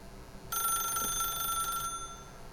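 An old-style telephone bell rings in the video game The Stanley Parable, one sustained bright electric trill lasting just over a second against a quiet background.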